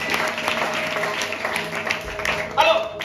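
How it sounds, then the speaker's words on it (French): A church congregation applauds and cheers for the word of the Lord, steady clapping and crowd noise filling the space throughout with a brief louder swell near the end. "On acclame pour la parole du Seigneur"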